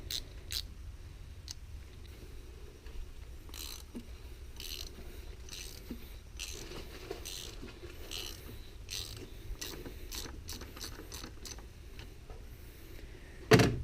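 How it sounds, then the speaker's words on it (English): A 32mm socket and ratchet work loose the oil filter housing on a Volkswagen GTI MK7, giving a string of sharp mechanical clicks and ratcheting ticks at irregular intervals over a low background hum, with a louder clunk at the end. "So I went out and bought the 32mm socket that you will be needing to get this off."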